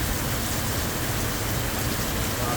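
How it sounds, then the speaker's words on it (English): Heavy rain pours steadily outdoors, a dense continuous hiss and patter with no break, loud and close throughout. "Just showing you rain, lots of rain."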